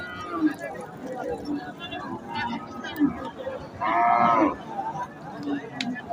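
Holstein Friesian cattle at a riverside ferry-ghat cattle market in Jamalpur–Sherpur, with a loud moo rising about two-thirds of the way through amid busy market noise and people talking.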